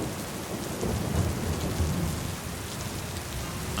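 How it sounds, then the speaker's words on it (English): Torrential rain pours steadily outdoors in a dense wash of noise, with a low thunder rumble swelling beneath it; no voices. "It wasn't just a few showers, it was torrential."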